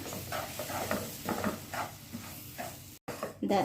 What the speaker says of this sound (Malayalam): ഒരു കപ്പ് റവയാണ് ഇട്ട് കൊടുക്കുന്നത് നമുക്കിത് നല്ല പോലെ മിക്സ് ചെയ്യണം